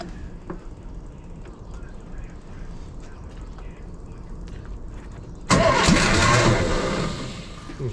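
A Land Rover Series 2 engine cranks over and bursts into life after fuel and coil are hooked up, quiet workshop ambience giving way to a loud, rough running roar.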